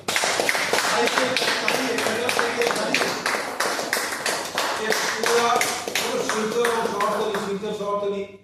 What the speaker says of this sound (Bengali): জোরদার করতালি শ্রীমতী কল্পনা জোরদার করতালি